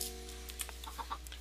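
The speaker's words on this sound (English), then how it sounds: "These chickens are getting the better of me, I swear." Chickens in the video game Minecraft cluck in several short, soft, scattered bursts over a low steady background hum, with no talking.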